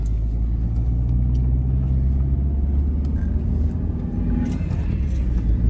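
A car driving on a road, heard from inside the cabin: a steady, loud low engine and road rumble that holds evenly from start to finish.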